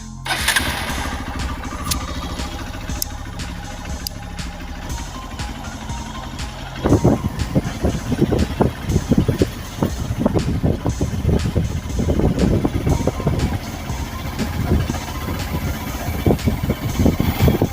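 Hero XPulse 200 motorcycle starting up at night and settling into a steady idle, a quiet hum followed by a louder, choppy, pulsing engine note that continues close by with no talking.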